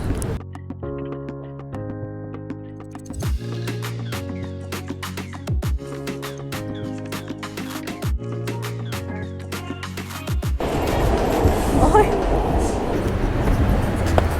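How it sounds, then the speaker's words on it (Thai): A New York subway train moves with a stepped electric motor whine that rises and holds in stages, then gives way to a loud, rushing rumble of the car in motion. "เดี๋ยวเราจะขึ้นรถไฟนะคะ"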